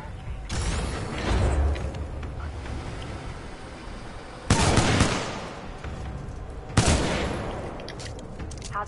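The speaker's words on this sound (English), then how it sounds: "Loving this fully automatic shotgun" Fully automatic shotgun bursts in the video game Titanfall 2, dense blasts of rapid fire in two or three loud stretches over a constant mechanical background rumble.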